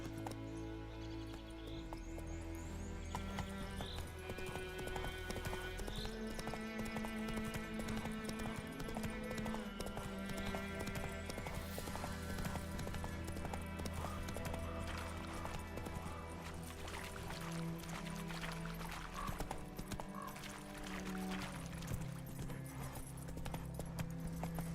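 Roach, Geralt's horse in The Witcher 3: Wild Hunt, galloping with steady hoofbeats that run the whole way through, moderately faint beneath loud game music.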